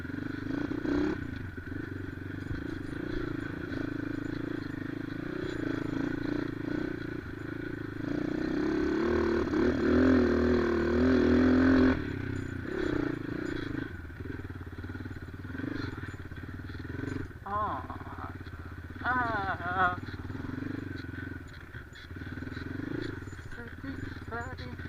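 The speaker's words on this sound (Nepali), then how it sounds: "रुख भएको ठाउँबाट बाइक लैजानु मजा आउँछ क्या" Motorcycle ridden off-road up a steep trail through trees, its engine droning steadily and close, revving harder midway, with a person talking over it.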